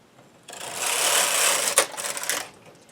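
A knitting machine with a ribber knits a first row to close a hem: a single close carriage pass of about two seconds, a brisk rushing, clattering sweep with a click midway.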